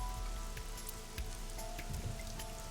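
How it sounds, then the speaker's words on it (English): Steady pouring rain in the video game AI: The Somnium Files, a dense continuous patter of drops hitting surfaces throughout with no voices. "it's pouring down rain"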